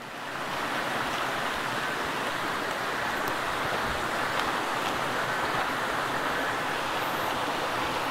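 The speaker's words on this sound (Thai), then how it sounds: "เสียงลำธารนะครับก็ไหลเอื่อย" Continuous broadband rush of flowing water, steady and fairly loud throughout, like a forest stream at the source of the Nan River running nearby, with no voices.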